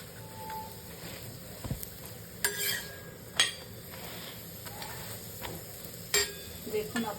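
Wheat paratha fries in white oil, giving a quiet sizzle with occasional clinks of a spatula against the pan and a few scraping strokes, with no voice present.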